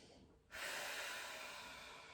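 A single long, breathy exhalation during a yoga session starts abruptly, stays steady and close, then slowly fades, with nothing else heard around it.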